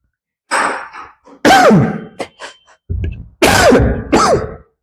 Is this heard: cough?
yes